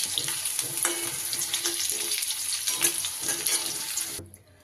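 Potatoes fry in hot oil with a steady, close sizzle and crackle, along with some faint stirring. The sound continues evenly, then cuts off abruptly near the end.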